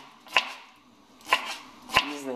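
Knife chopping bell pepper finely on a board, three sharp, evenly spaced cuts close up with quiet gaps between them and no talking.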